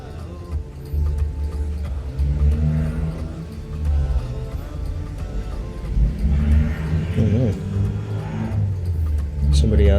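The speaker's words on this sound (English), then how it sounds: "Somebody out there driving their loud car." A loud car drives past outdoors, its engine rumbling and revving as it swells and fades over several seconds, heard from inside a room.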